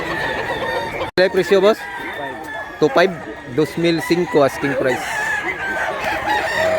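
Roosters, including a white-leg bird about a year old, crow repeatedly at Mantalungon, Barili, with several loud, close calls in quick succession over and between people talking.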